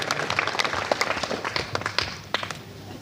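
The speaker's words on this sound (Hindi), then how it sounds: "एक बार जोरदार तालियों से स्वागत हो जाए" Audience applause welcoming a speaker on stage at a blanket distribution event held by a journalists' security committee: a moderate, steady patter of many hands clapping throughout, with a few sharper claps standing out.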